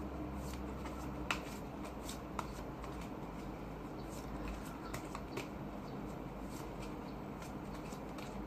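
A deck of tarot cards is shuffled quietly and continuously, a soft papery riffle with occasional sharper snaps over faint room hiss.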